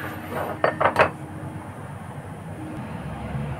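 A lid is set onto a pot of boiling guava, giving a quick cluster of three bright metallic clinks and rattles close by, followed by a low simmering background rumble.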